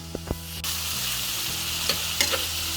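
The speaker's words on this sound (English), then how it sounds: "I personally prefer to add all my spices and let it toast with the meat." Minced beef toasting with spices in a pan for a dum ka kheema curry, a steady close sizzle with a couple of sharp clanks of a spoon against the pan near the start.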